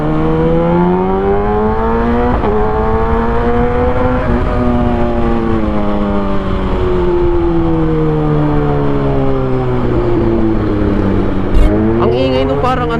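A Kawasaki ZX6R motorcycle engine hums steadily while riding in traffic at low RPM, its harmonic tone rising and falling with throttle changes across the whole stretch, loud and close throughout.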